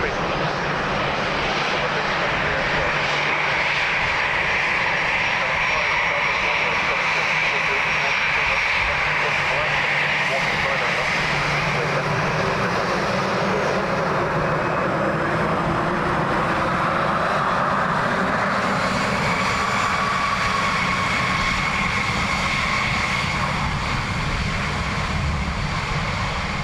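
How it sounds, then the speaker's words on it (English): An Aer Lingus Airbus A321neo jet arriving from Paris gives a loud, continuous engine roar with a shifting whine. It carries on steadily throughout, with a faint voice now and then. "A321 Neo Aer Lingus from Paris."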